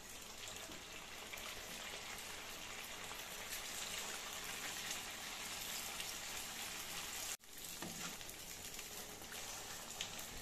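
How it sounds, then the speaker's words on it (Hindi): Bread samosas deep fry in hot oil, giving a continuous soft hiss like light rain that stays even and fairly faint throughout, with one brief dropout near the end. "इसे भी अच्छी तरह से अलट पलट कर ब्राउन होने तक पकाएंगे।"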